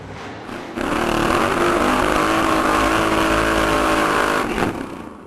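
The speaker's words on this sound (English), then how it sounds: "So the Lindberg boys with a tune-up run before the final round" A drag racing car at the 2014 Euro Finals makes a tune-up run, its engine roaring loud and steady for about four seconds after a sudden start, then cutting off abruptly.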